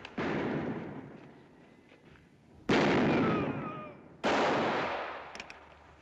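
Rifle gunshots in an old western film, three loud booming shots spaced over a few seconds, each with a long echoing decay.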